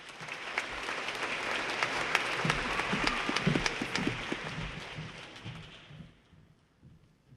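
Sustained applause rolls through a large university commencement crowd for doctoral degree recipients, steady dense clapping that fades away in the last seconds.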